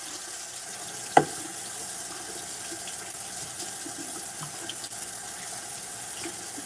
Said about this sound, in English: I'm going to go ahead and run it under the water and just